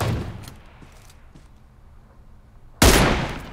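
An AWM sniper rifle fires a headshot in PUBG Mobile, one loud abrupt crack near the end with a decaying tail, after a quieter stretch of faint game ambience and a few softer earlier pops.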